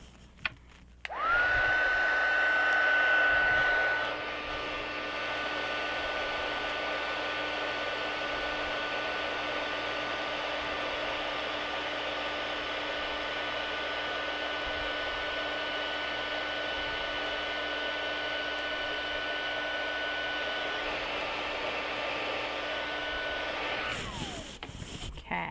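A heat tool blows a steady, loud whooshing hum for over twenty seconds, heating sand-textured embossing powder on a card, with a click at start and stop.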